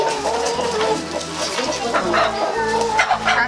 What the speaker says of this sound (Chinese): 杀这个老母鸡。